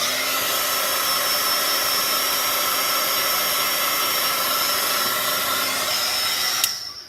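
Hair dryer blowing on paint, a steady whooshing hum with a faint tonal whine running unbroken for several seconds before clicking off near the end, close and alone.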